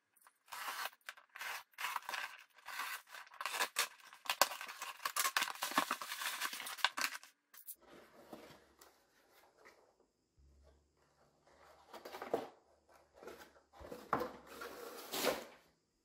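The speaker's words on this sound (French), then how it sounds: "on va attraper le colis et on va le déballer ensemble." A parcel holding two Schofield revolvers, a silver BB model and an aged black-bronze pellet model, gets unboxed: close rustling, scraping and cardboard handling, busy and loud at first, then sparser bursts of rubbing and tearing.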